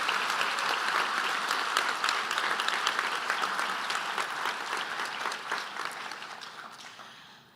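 Audience at a Health Sciences graduation pledge ceremony applauding BSc Honours Biokinetics graduates: dense, sustained clapping from a large crowd, steady and full for several seconds before gradually thinning and fading out at the end.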